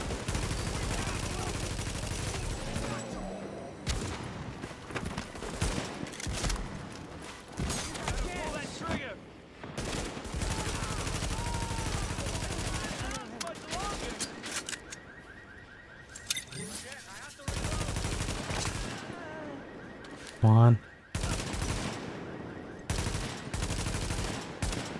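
Gunfire in The Division during a supply-point firefight: dense, rapid bursts of shots crackle through most of the stretch, with brief lulls and one sharp loud hit near the end, under recurring game voice lines and player talk.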